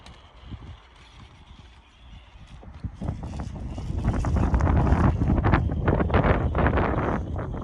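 Wind buffets the microphone in gusts, starting moderate and growing louder and rougher partway through, with no talking.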